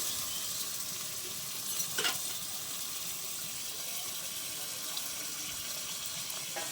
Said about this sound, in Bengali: এই দইয়ের বাটিটা দিয়ে একটু সামান্য জল দিয়ে দিচ্ছি।